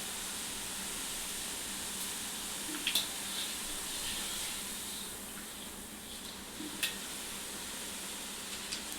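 Thin kara boondi strands of dough fry in hot oil with a steady soft sizzle and hiss throughout, broken by a few brief crackles and splashes.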